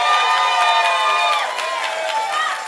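A church congregation shouts and cheers together in a dense, loud roar of many voices that rises and falls, filling the space without pause.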